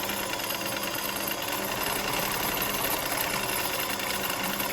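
A vintage Bernina Sport 801 sewing machine runs at speed, a steady dense mechanical whir and rapid needle clatter that stays even and fairly close throughout, with no talking.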